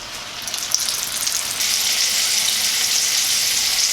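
Pieces of tofu coated in all-purpose flour sizzle and crackle in about two cups of hot oil in a small wok, a dense, bright frying hiss that swells slightly as they settle.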